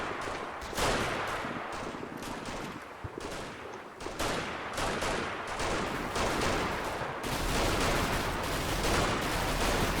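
Dense, continuous gunfire from the Combat Mission Battle for Normandy video game, with rattling machine-gun bursts and heavier booming shots layered into a loud, sustained battlefield roar.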